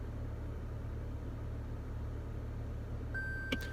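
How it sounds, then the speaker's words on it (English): Single short electronic beep from a 2019 Toyota RAV4 as the electronic parking brake engages, heard over the steady low hum of the running car's interior. "you would pull up on the parking brake until you hear a beep"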